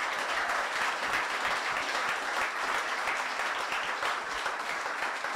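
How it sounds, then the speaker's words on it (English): Sustained applause from a university speaker-series audience for the panelists and keynote speaker on entrepreneurship, a steady, full wash of clapping hands throughout, moderately loud and heard alone. "can we give our panelists and can we give our keynote speaker a round of applause?"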